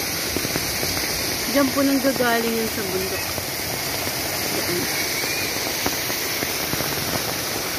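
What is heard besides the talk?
heavy rain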